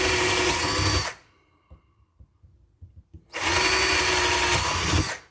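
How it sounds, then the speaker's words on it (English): Power drill boring pilot holes for wall hook screws, with two loud sustained whirring bursts separated by a quiet pause holding a few soft clicks and knocks. "So I'm just going to pilot these."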